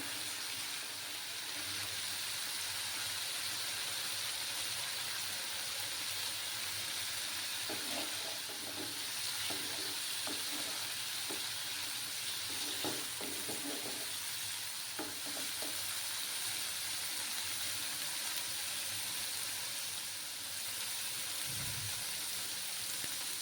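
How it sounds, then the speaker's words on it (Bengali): Onions fry in a pan with a soft, steady sizzle, punctuated midway by brief scraping stirs and clinks, fairly quiet and close, with no talking. "পেঁয়াজটা আমার ভালোভাবে ফ্রাই হতে থাক।"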